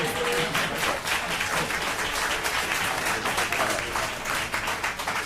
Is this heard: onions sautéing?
no